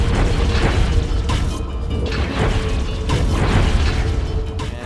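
Bombs thrown by an angry statue boss in the underwater game Song of the Deep, heavy booming blasts and rumbling crashes layered over a loud continuous game soundtrack.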